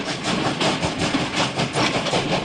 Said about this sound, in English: the train is still there